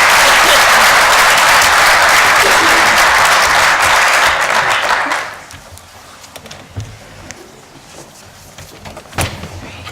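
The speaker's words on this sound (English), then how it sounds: "Let's give him a round of applause." Loud audience applause at a town police commission meeting, dense and sustained for about five seconds before cutting off abruptly, followed by quiet room noise with a few scattered knocks and rustles.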